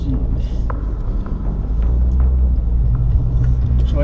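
Ford GT500 engine running with a steady low rumble from inside the cabin while the car sets off to bed in new brake rotors, the drone constant and fairly loud, with voices talking over it.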